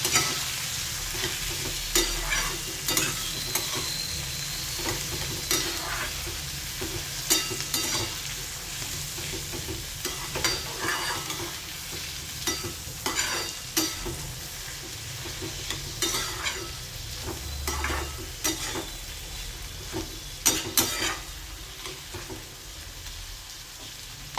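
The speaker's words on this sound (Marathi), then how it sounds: "दोन्ही मिरची घेतलेल्या आहेत, त्या आपण टाकून घ्यायच्या आहेत. छान परतून घेऊ परत." Green chillies sauté and sizzle in hot oil in a pan for buttermilk sooji upma, a steady close frying hiss broken by repeated scraping stirs of a spoon, with no talking.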